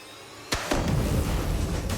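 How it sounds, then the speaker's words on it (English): Two blasts go off beneath a hovercraft in a minefield test, heard as a pair of sharp booms a split second apart followed by a sustained rushing roar of debris and spray. "those 2 explosions went off perfectly at the same time"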